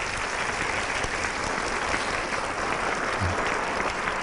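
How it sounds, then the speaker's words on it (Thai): A large audience at a Thai lecture applauds loudly, dense sustained clapping filling the whole stretch without pause. "ก็ปรบมือดัง ๆให้กับท่านทั้งหลายเหล่านี้ด้วยครับ"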